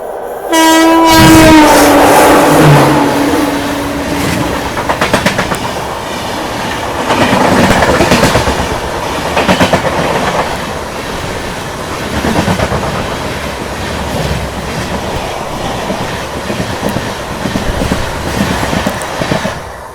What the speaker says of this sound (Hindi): सामने से आ रही है कोल्हापुर से चलकर गोंदिया की ओर जाने वाली महाराष्ट्र एक्सप्रेस।